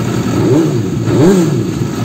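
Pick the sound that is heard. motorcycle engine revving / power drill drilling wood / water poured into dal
motorcycle engine revving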